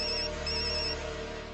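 A telephone rings on and on, unanswered, in a household scene from the Hindi sitcom Taarak Mehta Ka Ooltah Chashmah. It is a steady electronic tone that stays loud and even throughout, with no voices.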